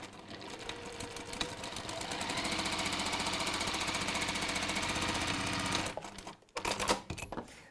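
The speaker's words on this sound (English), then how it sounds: "So sew down both sides, box the bottom." A sewing machine stitches down the side seams of a fabric piece in one fast, steady mechanical run of about six seconds, then stops, followed by a few brief handling knocks.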